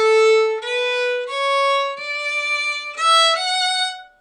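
A beginner class plays a simple music scale climbing up to F, with clear single notes stepping upward and a dotted D held noticeably longer than the rest, heard alone and close.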